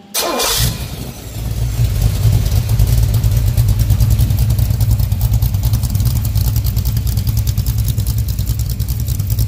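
A 406 cubic inch pump-gas V8 street engine cranks and fires up loudly, then settles into a deep, steady, lumpy idle that continues close by.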